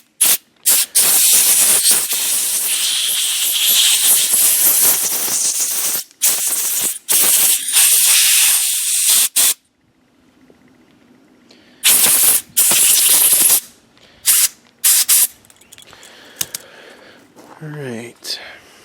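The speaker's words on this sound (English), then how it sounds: "I took the air hose and now I'm going to just blow it all out" A compressed-air hose blows out the carburetor of an old Stihl chainsaw in loud, close bursts of harsh hiss. Long blasts give way to shorter spurts, with quiet gaps between them.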